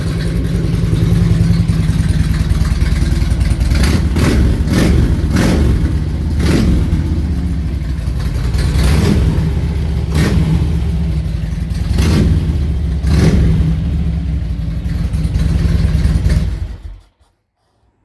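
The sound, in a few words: 2004 Harley-Davidson Road King motorcycle engine revving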